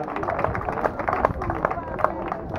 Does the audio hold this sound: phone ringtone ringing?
no